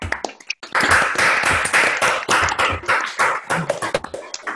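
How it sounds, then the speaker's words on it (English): An online audience claps in a traditional round, with sharp individual hand claps overlapping in an uneven, lively patter that stays fairly loud and near throughout. "give them a chance to clap for you in the traditional manner"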